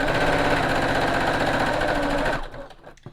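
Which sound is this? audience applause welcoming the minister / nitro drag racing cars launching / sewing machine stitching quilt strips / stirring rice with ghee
sewing machine stitching quilt strips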